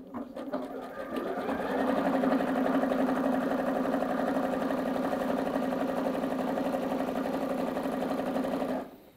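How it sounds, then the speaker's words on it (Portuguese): A domestic sewing machine stitches a folded piece of satin under the presser foot, running in one steady, continuous burst for about eight seconds, close and fairly loud, stopping abruptly at the end. "vou posicionar abaixo do pé calcador e vou iniciar a costura"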